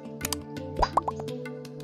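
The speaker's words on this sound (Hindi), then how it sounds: "लहसुन को भून दिए, देखिए सुनहरा हो गया है, और इसमें साग मिला देता है।" Red amaranth greens dropped into a pan of golden fried garlic, giving a few short wet plops and a soft sizzle over about two seconds.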